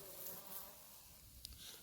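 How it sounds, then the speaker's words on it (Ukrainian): Honeybees hum inside a hive opened in winter, a faint, close, continuous buzz with small flickers of individual bees, heard alone without any talking. "Ось сусідня бджолосім'я."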